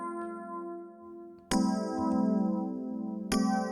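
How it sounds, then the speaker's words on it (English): Electric piano playing a dungeon theme in the style of Digital Devil Saga: a sustained chord holds, then a fresh chord strikes at about 1.5 s and another near 3.3 s, each ringing out cleanly and alone. "it's actually an electric piano."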